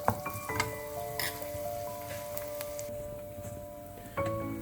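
Garlic frying in a pan until brownish for noodles, giving a steady close sizzle with scattered crackles and the occasional clink of stirring, with no talk.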